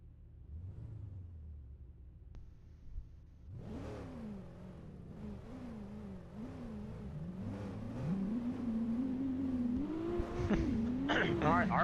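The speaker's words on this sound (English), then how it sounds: "Alright, RPMs are up," Drift car engines idle and then rev hard at the start line of a motorsport final, rising and falling in repeated throttle blips that build louder toward a closing surge, with a commentator talking over the engine noise.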